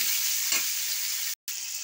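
Potatoes fry in a pan as part of a bean kadai recipe, giving a steady, loud, close hiss that runs continuously, broken by one brief dropout near the end.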